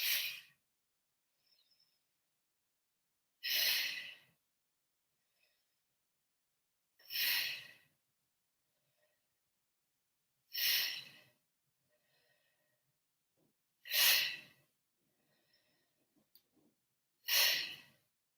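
Heavy breathing during a fierce yoga bootcamp workout, six loud breathy exhales at steady intervals of about three and a half seconds, with near silence between them.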